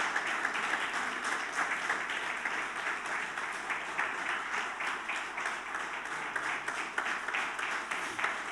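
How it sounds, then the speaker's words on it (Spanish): Church congregation applauding together during a Spanish-language service, a steady, dense wash of many hands clapping that carries on evenly for the whole stretch, with no voices rising above it. "Dale tu mejor aplauso."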